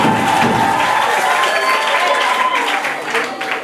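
A large crowd at a presidential tour event in Maféré cheering and applauding, dense continuous clapping with shouts and whistles, loud and sustained, easing slightly toward the end.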